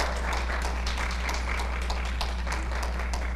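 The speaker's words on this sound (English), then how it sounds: "Give the Lord a hand clap." A church congregation claps hands together in a dense, steady patter that holds for several seconds without letting up.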